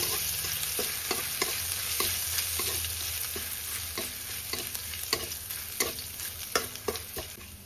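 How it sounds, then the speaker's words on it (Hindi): Chopped garlic frying gently in oil in a pan while cooking a green papaya curry, a continuous sizzle broken by frequent scraping, stirring clicks of a spatula against the pan, close and without talk. "रसुणटा को आम हल्का हल्का फ्राए करना तेल सहित।"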